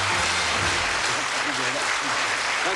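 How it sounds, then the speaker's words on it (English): Sustained studio audience applause at a 1981 television game show, a steady dense wash of clapping heard alone and fairly loud throughout. "a nice warm round of applause"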